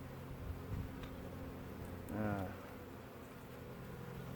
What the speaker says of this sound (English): you can see there's a lot more bees in it when I open it